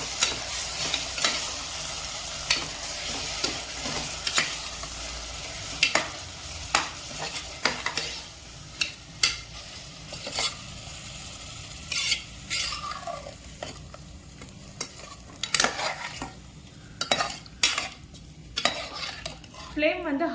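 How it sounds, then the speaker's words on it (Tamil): Afghani chicken sizzles in hot oil on a high flame while a spoon stirs it, with frequent sharp clinks and scrapes against the pan over a steady frying hiss. "இந்த சிக்கன் நல்லா வந்து ஃப்ரை ஆகணும் இந்த ஆயில்லையே"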